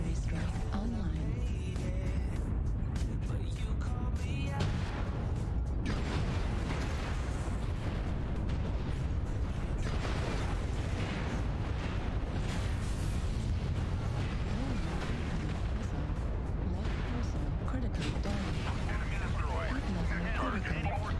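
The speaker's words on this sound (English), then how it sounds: "Artillery strike online." Artillery strike in the mech combat game MechWarrior Online: a continuous dense roar of booming blasts and heavy impacts fills the whole stretch, loud and close, with a voice talking over the barrage.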